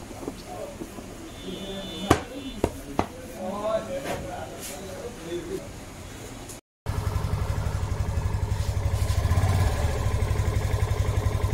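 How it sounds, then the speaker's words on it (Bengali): Yamaha FZS motorcycle engine running smoothly after a clutch repair. The first half has louder talk and clattering, then the close engine settles into a steady, even idle hum. "তো এখন কিন্তু একদম স্মুথ সাউন্ড চলে আসছে, যে ক্লাচ বাটের যে শব্দগুলো ছিল সেগুলো কিন্তু একদম চলে গেছে।"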